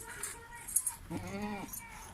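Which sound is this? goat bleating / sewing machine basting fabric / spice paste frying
goat bleating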